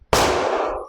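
Sarsilmaz K12 Sport X shotgun firing: a single loud, sharp blast with a short ringing decay, close and alone.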